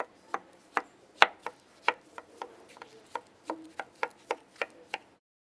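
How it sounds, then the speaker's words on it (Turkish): A knife chops sharply through tomatoes on a cutting board, quartering them, about fifteen crisp, evenly spaced strokes close by, then silence. "Domatesleri dörde bölün."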